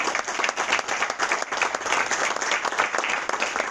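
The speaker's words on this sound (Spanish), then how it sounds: "pues un nuevo aplauso para nuestro compañero" Audience applause after a lecture on the Enlightenment and the blue economy, steady dense clapping from a full room that holds for nearly four seconds at even loudness.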